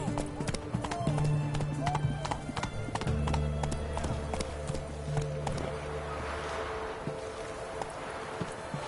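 Roach, a horse in The Witcher 3, gallops with quick rhythmic hoofbeats under game music, with a voice speaking over the steady clatter.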